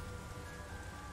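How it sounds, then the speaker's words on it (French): Steady rain pours down in the game Persona 5 Strikers, a dense, even hiss with a faint tonal hum underneath, continuous and unbroken throughout. "Et s'est mis à pleuvoir tout d'un coup"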